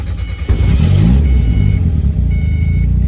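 A turbocharged 1994 Mazda Miata is started with the key. It cranks briefly, catches and rises into a loud rev, then settles into a steady close idle.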